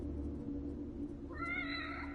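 A cat meowing in The Evil Within Kidman DLC game, a drawn-out mewing call that rises in over a low rumbling game ambience, fairly close and clear, with no talking.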